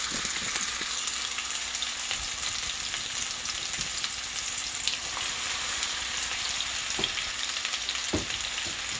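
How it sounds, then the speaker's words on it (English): Sliced potatoes and onions fry in a little oil in a pan, a dense, even crackling sizzle that holds steady throughout with no voices over it. "we're going to go ahead and fry our potatoes and onions."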